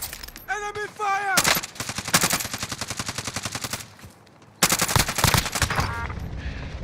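Rapid automatic gunfire in a multiplayer shooter game, two loud sustained bursts separated by a short pause, with game voice callouts and tonal alerts near the start.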